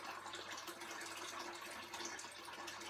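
Boiled water pours from an enamel mug into a saucepan, a soft continuous trickling splash that runs steadily and quietly, with no talking.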